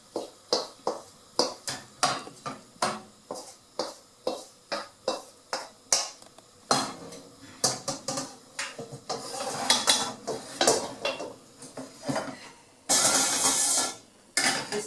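Pots and pans clank repeatedly as pork adobo is moved into saucepans, a quick series of sharp metallic knocks that gives way to a denser jumble of scraping and clattering, closing with a bright, harsh burst of metal.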